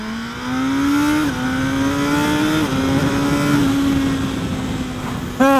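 A superbike motorcycle accelerates hard onto a freeway entrance. The loud, close engine climbs in pitch through several gear changes with brief dips between them, and a sharp rev surges at the end.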